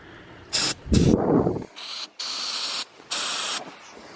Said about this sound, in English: I'm going to spray some ether on this thing.